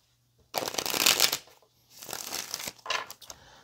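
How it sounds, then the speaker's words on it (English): Tarot cards are shuffled in three quick riffling bursts, crisp and close, with short pauses between them and no talking. "We're going to pull some tarot here."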